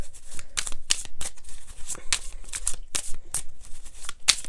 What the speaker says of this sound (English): And now I'm shuffling the little deck.